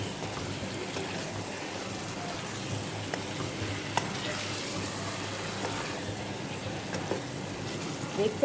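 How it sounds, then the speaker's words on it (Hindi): Chana dal frying in oil as chopped green chillies are stirred in, a soft, low sizzle with scattered scraping clicks of the spoon and a louder clatter near the end. "हमने हरी मिर्ची काट कर रखी थी वो शामिल कर देंगे और इसको अच्छी तरीके से मिक्स करेंगे"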